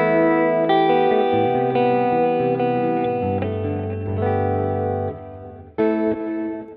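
An electric guitar runs through a delay effect on a Line 6 Helix, sustained distorted notes and chords ringing with echoing repeats, loud and continuous, with a fresh strum near the end.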